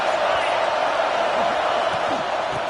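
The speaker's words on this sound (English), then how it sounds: "Listen to the crowd energy here in the early going." A dense, steady roar from a big college football stadium crowd during a Florida State versus Miami game, broad and sustained with faint shouts rising out of it and a commentator talking over the top.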